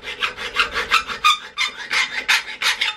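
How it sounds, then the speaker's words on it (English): Rhythmic rasping strokes of a hand file on a metal adapter plate scrape back and forth, about a dozen quick passes close up with a brief pause midway. "you lightly file all the way around"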